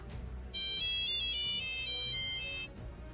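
A phone ringtone plays a bright electronic melody for about two seconds, loud and clear over a quiet room background.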